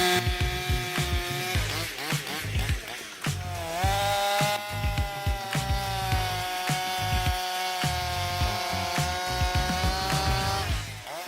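A professional chainsaw with a 94 cc engine cuts through wood, its motor buzzing loudly and steadily with the pitch dipping and climbing as the chain bites and the throttle is worked.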